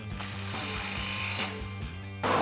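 A hand tool works on an exhaust clamp of a RAM 1500 fitted with a Flowmaster exhaust, giving a few sharp ratcheting clicks and metallic knocks over a steady low mechanical hum, ending in a louder scrape.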